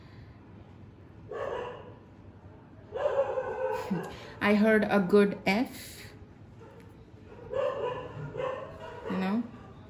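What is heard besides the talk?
dogs barking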